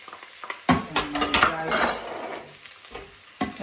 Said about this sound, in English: I'm just going to dump in my sliced dried mushroom